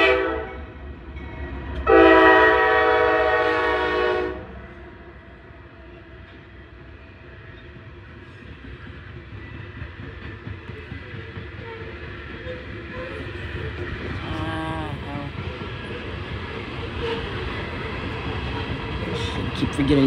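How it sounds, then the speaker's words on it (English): A Norfolk Southern train on the Conemaugh Line at Creighton, Pennsylvania sounds a loud horn blast for about two seconds, then a long rumble of rolling railcars and wheels continues, with faint squeals building toward the end. "Train on the Connemaw line in Creighton, PA."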